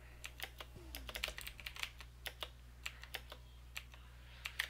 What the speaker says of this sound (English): My keyboard's actually pretty loud